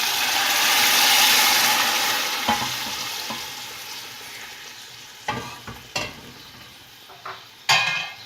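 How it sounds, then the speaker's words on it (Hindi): Chicken boiling broth poured into a pot of fried chicken for Afghani pulao: a loud rushing surge that gradually fades, followed by scattered sharp utensil clanks against the pot. "अब मैं इसमें सूप डाल दूंगी जिसमें हमने चिकन को बॉईल किया था।"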